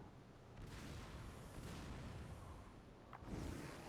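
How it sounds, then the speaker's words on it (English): Explosions in a video game rumble as a continuous low, dense roar with a sharper burst near the end, fairly faint and with no talking over them. "here comes an explosion"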